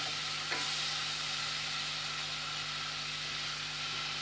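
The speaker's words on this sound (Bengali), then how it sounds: "এবার আমি মশলাটাকে একটু ভালো করে কষিয়ে নেব।" Spice paste with a splash of water frying and being stirred in a pan for a Bengali cucumber curry, giving a steady broadband sizzle with one brief scrape near the start.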